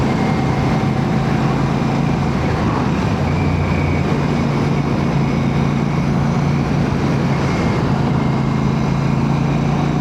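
Steady engine drone and wind rush from a Royal Enfield Classic 650 motorcycle ridden on the road at around 50, loud and continuous with a constant low rumble.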